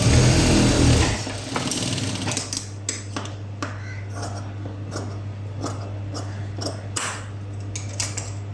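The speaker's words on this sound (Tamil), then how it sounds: "2 சைடும் கரெக்டாக ஈவனாக வச்சு ஒரு ஸ்டிச் போட்டுனே வந்துடுங்க" A sewing machine stitches a blouse, opening with a brief loud burst of whirring before settling into a steady low motor hum under scattered soft clicks and handling noises, with faint whispery voice sounds.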